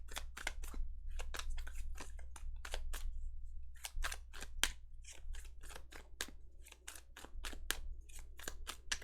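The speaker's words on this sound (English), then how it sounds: "This deck makes it look like I'm such a good shuffler." A deck of tarot cards being shuffled in rapid, crisp bursts of riffling and snapping card edges, close and fairly loud over a steady low hum, with brief pauses between runs.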